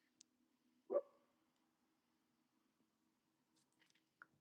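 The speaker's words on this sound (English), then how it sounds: "Nuya barking in her sleep" A sleeping dog gives a single muffled, soft woof, followed by faint stirring and small mouth sounds in a quiet room.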